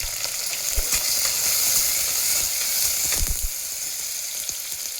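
Green chillies and shallots fry steadily in ghee in a pan for a stingray fish curry, giving a close, continuous sizzle with a few soft knocks and stirring scrapes and no voices.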